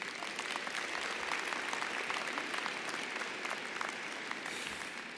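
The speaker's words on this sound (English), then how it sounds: "we are honored today to applaud you for your service" Audience applause fills a university commencement ceremony at UIC's 2017 fall undergraduate graduation, a dense, steady wash of many hands clapping throughout, loud and sustained without a break.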